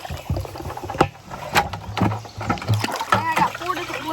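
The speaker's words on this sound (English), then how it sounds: "Here, I'm gonna put some water in your bucket." Creek water splashes and sloshes into a bucket in several uneven pours, close and fairly loud, with people talking over it.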